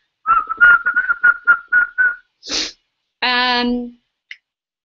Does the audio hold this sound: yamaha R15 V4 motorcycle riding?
no